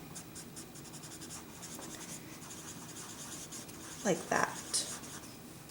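Colored pencil strokes feather and sweep light color across paper, making soft, steady scratching that runs throughout, with brief speech near the end.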